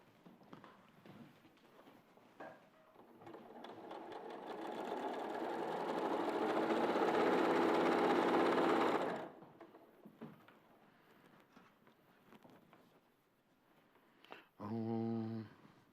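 A sewing machine stitches a seam in one steady whirring run lasting several seconds. Quiet handling noises come before it, and someone talks softly after it stops.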